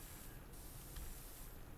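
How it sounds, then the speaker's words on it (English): Steady broadband spray of a pressure washer in the video game Power Washer Simulator, a continuous hissing rush that holds evenly from start to finish with no talk over it. "Let's go ahead and just do a big main spray here"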